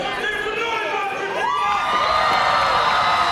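A crowd at a pro wrestling wargames event cheers and whoops continuously, with rising shouts and a sustained roar filling the arena, while voices talk over the noise.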